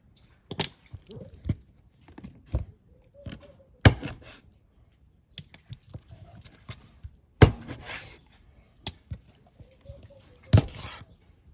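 A knife chops through a raw chicken to cut off the wings and legs, giving sharp, loud, irregular thuds against a board with quiet pauses between them, and someone speaks softly between the cuts.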